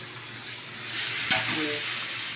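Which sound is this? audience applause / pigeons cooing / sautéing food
sautéing food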